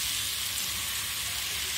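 Fried chicken tossed with soy sauce and chili sauce sizzles in a hot pan, a continuous, close hiss with no talking.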